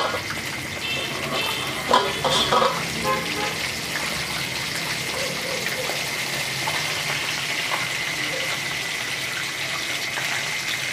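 Chicken frying in oil in a pan with the lid on gives a steady close hiss and sizzle throughout, with a few louder spatters and crackles early on.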